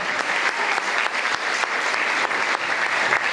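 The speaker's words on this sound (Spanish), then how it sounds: "Les aplauso fuerte al Señor." A church congregation applauds loudly and steadily, a continuous full roar of clapping close by with no break.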